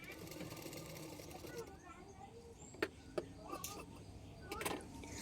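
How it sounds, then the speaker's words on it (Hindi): A sewing machine stitches a blouse with a steady close whirring hum, then a few sharp clicks and handling knocks near the end, while someone talks over it. "तो देखो मैं इस तरह से सिलाई कर रही हूँ।"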